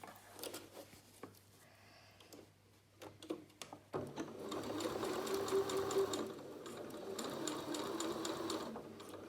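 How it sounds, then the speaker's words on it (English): A sewing machine stitches the bottom of a zip in fabric, starting as soft intermittent whirring and then running steadily and close after about four seconds, with a low continuous motor hum throughout. "Remove my pins and finish sewing the bottom."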